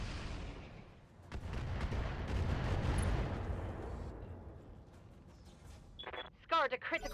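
Weapons fire on an Archer mech in the Roguetech battle game, a heavy booming barrage that swells and rumbles for several seconds before fading, followed by a few sharp electronic beeps.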